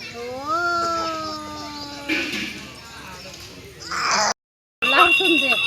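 A few rising, drawn-out cat meows, moderately close, followed by shuffling and a brief silence before another short burst of sound.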